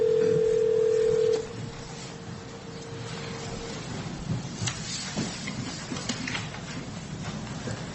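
A loud steady dial tone plays on a phone line during a Franklin County, Washington commissioners meeting. It cuts off after about a second, and faint, scattered dialing tones and clicks follow over background room noise.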